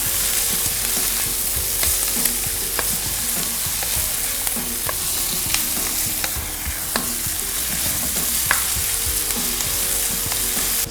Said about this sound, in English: I'm going to fry my eggs in the other pan while the vegetables are cooking.